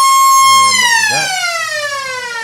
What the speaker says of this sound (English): there's a very loud siren